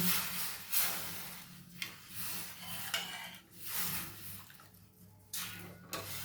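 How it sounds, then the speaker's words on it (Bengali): Hot water poured into a pot of dal, heard as uneven splashing and gushing in short bursts with small clinks of the pot between them. "গরম জল দিলাম।"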